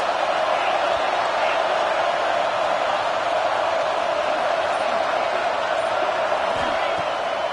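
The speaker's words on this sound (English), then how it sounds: "this crowd is getting behind this defense" Dense, steady roar of a college football stadium crowd during a big third down in the red zone, Texas Tech at Alabama, a loud continuous wash of massed voices and cheering sustained throughout.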